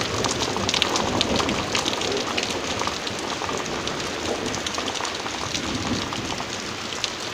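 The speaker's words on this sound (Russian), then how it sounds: "Второй день попадаю под дождь." Rain falls outdoors in a dense, steady patter at close range, continuous and fairly loud with no pauses and no voices.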